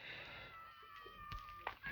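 A cat meows faintly during a rescue, a couple of thin, high mews near the end against quiet background.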